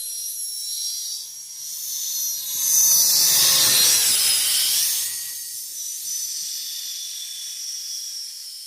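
Traxxas K10 VXL track-edition RC truck with brushless motor and four rear track units climbing a snowy hillside, a high whining buzz that swells as it nears and fades off, alone.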